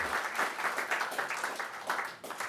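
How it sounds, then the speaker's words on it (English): A dinner audience at a welcome event for a university vice-chancellor breaks into applause, many hands clapping in a dense, lively burst that swells and dips before trailing off near the end. "another round of applause."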